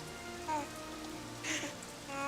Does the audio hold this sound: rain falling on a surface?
yes